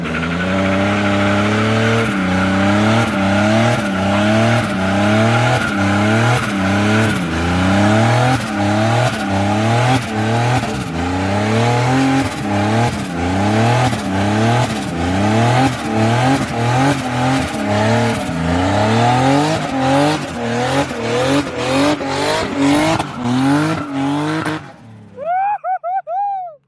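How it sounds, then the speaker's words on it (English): A turbocharged BMW E36 engine revs hard in repeated rising pulls and drifts, the pitch climbing and dropping over and over, loud and close, with a brief chirp at the end; the engine has a misfire. "That was just me doing some pulls in the car, you know, some drifts"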